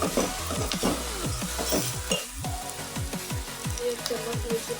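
Onion-garlic masala sizzles and fries in oil in a pan for a Kolhapuri misal, a loud continuous close crackle with stirring scrapes throughout.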